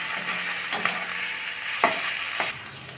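Onions fry in a pan until reddish-brown for a potato and egg curry: a loud, continuous sizzle close by, broken by a few quick scrapes of the spatula.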